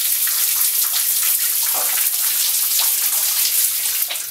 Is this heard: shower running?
yes